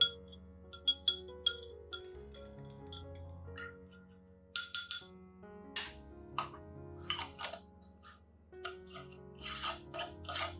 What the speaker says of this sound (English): Stirring well to release the rice's nutrients into the water.